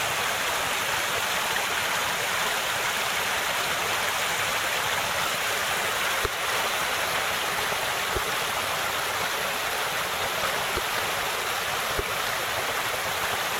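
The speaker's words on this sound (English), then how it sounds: "there's like 25 times as much water running through here now" Creek water rushing steadily through and past a hand-built dam, a dense continuous flowing roar with no pauses, close by and alone.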